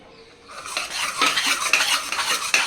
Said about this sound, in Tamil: நம்ம அப்பப்போ கொஞ்சமாக ஊற்றி கிண்டிக்கிட்டே இருக்கணும்.